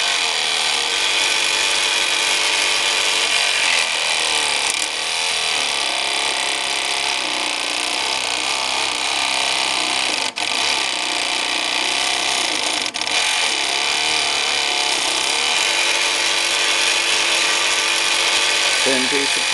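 A jigsaw cuts through a wooden popsicle stick, a loud, steady, buzzing rasp that holds without a break from start to finish.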